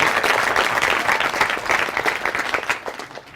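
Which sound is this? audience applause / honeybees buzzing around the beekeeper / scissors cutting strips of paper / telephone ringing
audience applause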